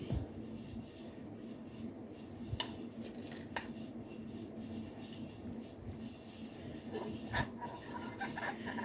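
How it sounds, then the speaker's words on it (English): A spoon scooping creamy, cheesy casserole out of a baking dish, with soft scraping and rubbing against the dish, occasional clinks of metal on the pan, and low background noise. "let's scoop us some of this delicious casserole out"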